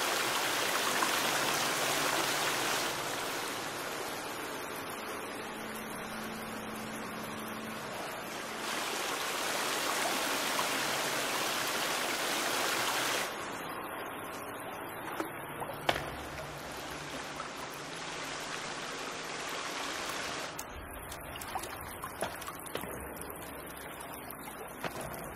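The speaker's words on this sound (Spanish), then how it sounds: "Vale, aquí hay agua." Steady broadband water rushing inside a cave in the survival game The Forest, alternating between louder, fuller stretches and thinner, quieter ones, with a few faint clicks and game sounds scattered through.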